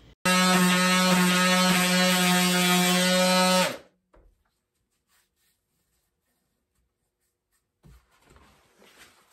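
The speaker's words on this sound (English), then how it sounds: "Here I switched to 80 grit sandpaper because I found the 120 wasn't aggressive enough to efficiently remove the remaining hooks." DeWALT sander fitted with 80 grit sandpaper stripping leftover Velcro hooks from a sanding pad, a loud, steady motor whine that runs for about four seconds and then cuts off, followed by near silence with a few faint handling noises.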